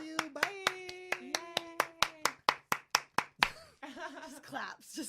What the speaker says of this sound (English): Just claps for days.